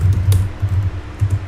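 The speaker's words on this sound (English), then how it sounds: "So right here I'm just going to just type on explicit memory." Close, crisp tapping of keys on a computer keyboard comes in quick bursts of several strokes separated by short pauses, alone without any talking.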